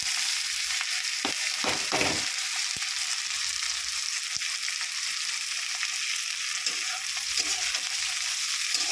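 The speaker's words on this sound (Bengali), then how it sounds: "পেঁয়াজটা লাল করে ভেজে নেব।" Chopped onions fry in a hot pan with a continuous, close sizzle and a few clacks from a stirring spoon near the start, and no one speaks.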